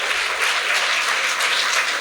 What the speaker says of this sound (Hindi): जोरदार तालियां यीशु के लिए बजाएं।